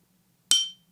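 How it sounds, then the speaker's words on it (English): A glass bottle struck once with a drumstick gives a single sharp, bright clink that rings briefly and decays within a few tenths of a second, alone over a faint low hum. "I sampled this glass bottle that I hit with a drumstick"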